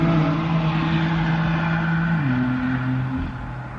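BMW M4 passing by, a steady loud engine drone that holds a low pitch and then drops as it goes past, fading slightly at the end, with no talk.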